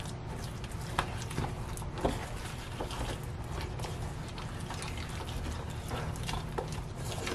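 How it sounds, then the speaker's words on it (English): Water is added to Betty Crocker chocolate chip cookie mix batter in a hotel room, giving soft pouring and wet splashing sounds, with a few faint clicks and knocks in a quiet room. "Yeah, let's add some more water."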